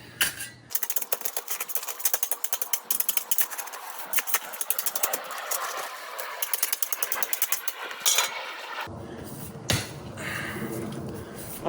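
A steel pick strikes repeatedly into rocky, sandy ground at a backyard pool dig, giving a dense run of sharp, gritty impacts up close, then a pause and a few scattered hits.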